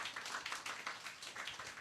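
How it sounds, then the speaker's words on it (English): Applause from an audience greeting contestants at a school pageant-style event, a brief, fairly faint patter of clapping hands. "let us give a big round of applause"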